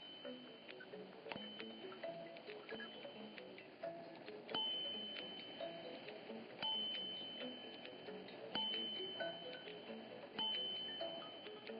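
Faint, sharp metallic strikes of a grande sonnerie watch's hammers on gongs ring out at regular intervals over a soft ticking mechanism, each strike leaving a brief shimmering decay.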